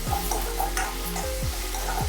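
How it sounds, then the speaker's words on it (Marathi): Ginger garlic paste fries in a pan for methi matar malai, giving a continuous sizzle with repeated spoon scrapes in a steady rhythm and no voices. "एक चमचा भरून अद्रक लसूणची पेस्ट टाकायची आणि मिक्स करून घ्यायचं"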